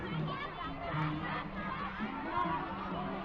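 Crowd cheering and shouting at a school colour sports day in Thailand: a steady, fairly faint mass of voices with rising and falling yells.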